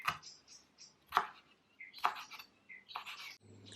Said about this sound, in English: I also chopped some coriander.